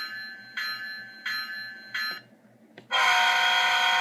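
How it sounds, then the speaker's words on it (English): An HO-scale Intermountain Iowa Interstate ES44AC model locomotive's bell rings in three evenly spaced bursts, then a brief pause before its loud, sustained horn blares continuously. "here's the bell first"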